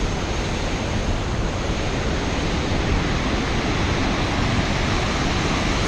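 Powerful rushing water roars at Hetch Hetchy, a dense, unbroken wash of noise that stays loud and constant throughout with no pauses and no one talking.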